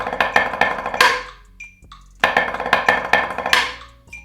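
Snare drum rudiment in steady 16th notes, double accents leading into diddles, played alone in dense bursts with a brief pause before the pattern resumes.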